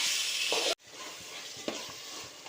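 Tomatoes sautéing in a pan for a seeraga samba chicken dum biryani give a steady close sizzle and hiss, cut off by a brief silent gap, then returning a little softer with faint stirring scrapes.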